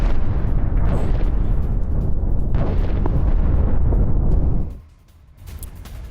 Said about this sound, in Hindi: हमलों के बाद सुनाई दी जोरदार धमाके की आवाज